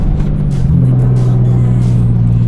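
A Dodge Ram diesel pickup rolls over dirt, its engine droning loud and steady up close with a low hum and a constant rumble of tires on the ground.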